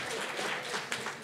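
Applause fills a legislative budget committee hearing room, a steady broadband patter of many hands clapping at moderate level throughout, with no break.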